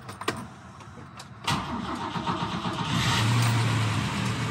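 A 1975 Volvo 164TE with a 4-speed overdrive gearbox and rough-running fuel injection, its engine turning over and catching, then running steadily close by with a rising, sustained drone.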